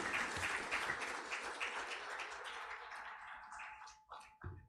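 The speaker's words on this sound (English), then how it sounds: "A big round of applause for the Minister of Finance, Planning and Economic Development" Audience applause for Uganda's Minister of Finance, Planning and Economic Development at a financial inclusion forum, clapping fairly faint and distant, thinning out toward the end with a few last claps.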